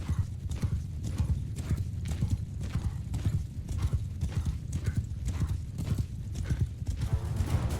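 Horses galloping in a cavalry charge in the medieval battle game Mount & Blade II: Bannerlord, with steady rapid clip-clop hoofbeats and occasional whinnies throughout, loud and close.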